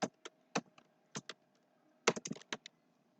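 Fingers type on a computer keyboard in short irregular clusters of crisp, close key clicks with quiet gaps between them, with no voices.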